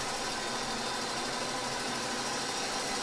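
Jigsaw machine running in the dark puzzle platformer Limbo, a steady, loud whirring mechanical buzz with a fast vibrating rattle that holds constant throughout, no talking.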